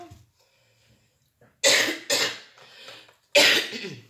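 Three sharp coughs come close together, then a pause and one more cough, close and fairly loud in a quiet room.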